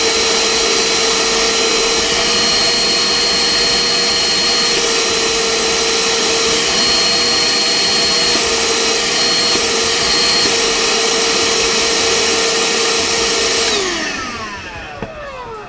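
A Ryobi R18HV cordless workshop and car vacuum runs at a loud, steady high-pitched whine, then winds down as it is switched off near the end.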